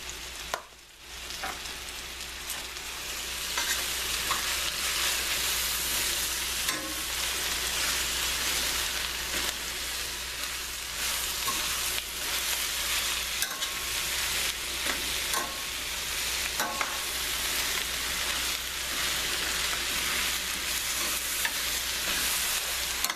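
Shrimp, spinach and mushrooms fry in a pan with a dense, continuous hissing sizzle close by, broken by scattered stirring clicks and scrapes throughout.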